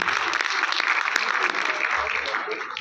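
Audience at an Alhamra arts council musical award show applauding a performer, a dense steady wash of clapping hands filling the room for a few seconds without pause.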